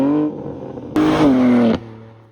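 A BMW G82 M4 fitted with the titanium M Performance exhaust and a single midpipe idles with a low drone, then blips once in a sharp, loud rev that holds briefly before dropping back.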